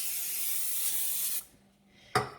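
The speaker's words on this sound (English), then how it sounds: "we're just gonna spray them with just a butter flavored spray rather than coat them with a ton of butter" Butter flavored cooking spray hisses in one steady burst lasting over a second, then stops, followed by a short, sharp second spritz; close and fairly quiet, with no talk.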